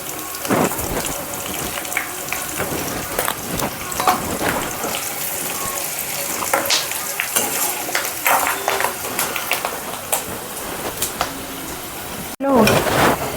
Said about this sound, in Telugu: వెల్లుల్లిపాయలు వేసిన కరివేపాకు వేస్తున్నాను.